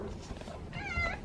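A cat meows near the end, a short tonal cry rising over a quiet room with low rumbling background; no talking during the call.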